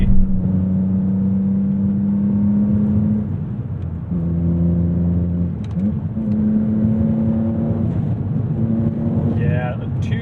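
A 2007 BMW Z4 M Coupe engine pulls steadily under acceleration from inside the cabin, a sustained drone that shifts pitch partway through, with a person speaking over it.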